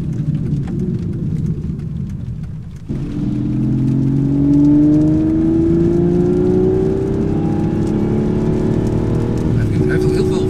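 Aston Martin V12 Vantage S engine revving at low revs, a rough deep drone that rises in pitch, steady and loud and close, with a fainter rumble before it picks up.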